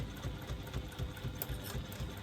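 A sewing machine with a size 16 needle stitches around the top edge of a bag, through the lining and several layers, in a steady rapid mechanical whir with a fast repeating needle rhythm.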